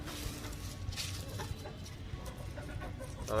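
Backyard desi hens cluck softly and steadily while pecking at crushed eggshells, a low busy murmur of fowl close by with no talk.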